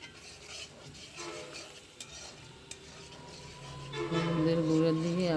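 Carrots and turmeric stirred in a frying pan, a soft scraping stir with low sizzling that swells louder toward the end.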